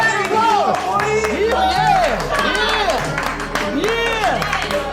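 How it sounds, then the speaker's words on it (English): A live audience bursts into a round of applause, steady clapping blended with loud whoops and cheering voices that rise and fall over several seconds. "Give yourselves a round of applause"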